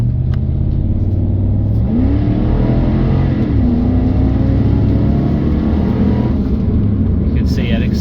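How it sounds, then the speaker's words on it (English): 2005 Toyota Tundra Limited 4x4 pulling away at full throttle, a loud in-cabin engine roar climbing through a gear change, then easing as the truck slows quickly, with a suspected front-end noise. "You can see it accelerates full power, and now I'm stopping quickly."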